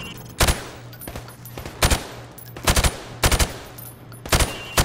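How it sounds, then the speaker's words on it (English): Rapid gunfire at pop-up targets behind plywood in a Call of Duty 4: Modern Warfare shooting range, loud sharp shots in short irregular bursts and single cracks repeating over several seconds, with a low steady hum underneath. "I want you to shoot the targets through the wood."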